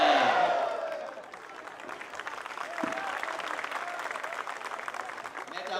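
Audience applause at a Hindi poetry recital held during a Ganesh Mahotsav festival. Broad, sustained clapping rolls from a crowd, louder at first, then settles into a steady wash with murmuring voices underneath.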